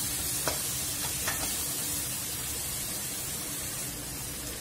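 Garlic sautéing in a pan while being stirred, a steady close sizzle with a few soft scrapes of the spoon near the start, no voices.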